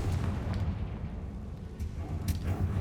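Deep, rumbling explosions from the Bombarda spell in Hogwarts Legacy, heavy low booms rolling through a game soundscape with a couple of sharper bursts, loud and continuous.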